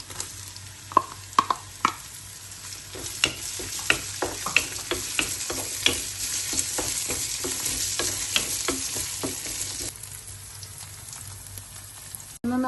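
Onions sautéing and being stirred in a pan for a Kerala-style aloo raita, a steady close sizzle broken by repeated sharp scrapes of a spoon against the pan, heard alone with no talk.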